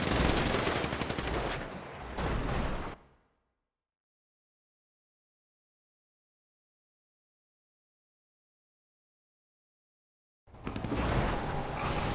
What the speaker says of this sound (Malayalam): ഇപ്പോൾ വെടിവെക്കും. നല്ലൊരു വെടി കിട്ടി.